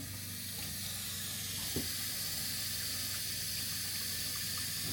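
Water runs steadily from a faucet in a Linage 25FW travel trailer, heated by the onboard water heater: a continuous close hiss and splash with a faint click partway through, no voices.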